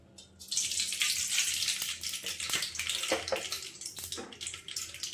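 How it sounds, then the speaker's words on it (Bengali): Mustard oil pours into a hot kadai, starting with a sudden gushing rush that turns into a loud, fluctuating sizzle with a few sharper crackles throughout. "এখন সরষের তেল দিয়ে দিচ্ছি"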